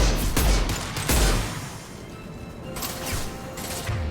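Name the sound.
heavy weapon firing in video game Mass Effect 2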